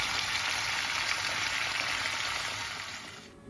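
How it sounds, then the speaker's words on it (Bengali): Cauliflower pieces frying in a pan on a home stove, giving a steady, dense hiss that stays loud and even, then thins out slightly near the end, with no voices. "ফুলকপি ভাজা চলছে"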